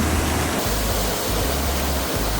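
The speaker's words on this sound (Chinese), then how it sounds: "这在水的声是啥物声？ 台语叫做水墙。" Water pours down a rock face on the old Fish Road trail near Jinshan, Taiwan, a dense, steady roar of falling water close by with no pauses and no talking.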